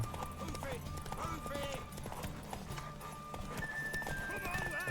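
Horse hooves clip-clop steadily in The Witcher 3, with a whinny cutting through, while voices talk over the game sounds and background music.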